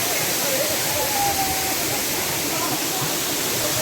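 A waterfall at Pandav Van Dham roars as a steady, dense wash of rushing water filling the whole clip, with no pauses.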